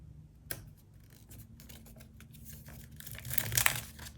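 Crinkly rustling and tearing of a paper packet, building from light handling to louder crisp crackles near the end, close up with no talk.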